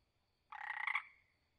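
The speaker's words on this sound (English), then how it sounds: "Red-eyed tree frog." A single raspy croak from a red-eyed tree frog, about half a second long with a quick pulsing rattle, close and clear against near silence.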